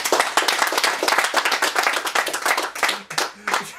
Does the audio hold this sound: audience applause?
yes